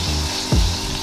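Beaten egg hitting a hot frying pan, a short burst of sizzle rising over a steady low background hiss before settling into continuous frying.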